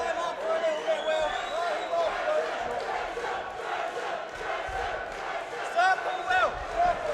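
At a Shock N Awe MMA fight night, a crowd chants fighter Drayson's name in a loud, rhythmic, sung chant that swells in bursts, with a commentator talking over it.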